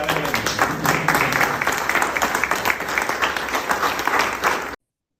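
An audience gathered for a guided visit through little-known historic corners of a university breaks into dense, sustained applause, an even wash of many hands clapping at close range that ends abruptly.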